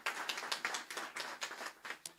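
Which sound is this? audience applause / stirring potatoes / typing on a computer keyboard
audience applause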